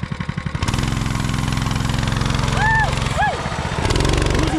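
A Princess Auto 212cc mini bike engine starts up and runs steadily at close range, its chugging idle rising briefly as the throttle opens, with voices talking over it.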